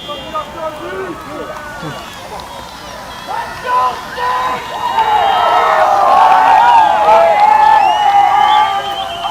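A crowd at a University of Florida vs Florida State men's lacrosse game cheers and whistles before play, the noise swelling louder toward the end while voices talk over it.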